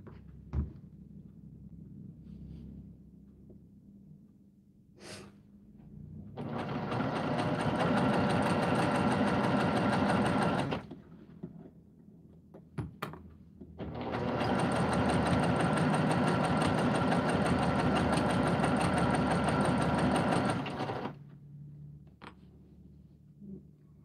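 A home sewing machine stitching a fabric project bag with pink top thread and white bobbin thread runs in two steady sustained bursts of several seconds each, with quiet pauses between and no talking.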